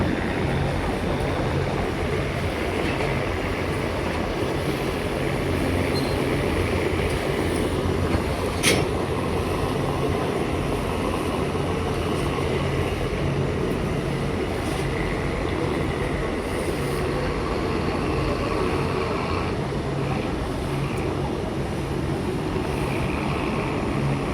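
Passenger launch MV Mitali 7 on a river, heard as a continuous loud low engine drone with rushing water and wind throughout, steady and close, with no talking.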